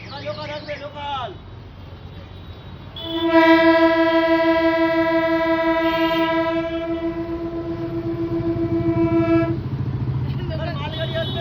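A toy gadget plays a local train sound effect, a loud sustained horn-like tone lasting about six seconds, with someone speaking briefly before and after it.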